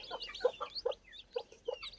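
Brooding hens clucking in a poultry coop, a series of short soft clucks in an irregular rhythm, fairly close and alone without talk.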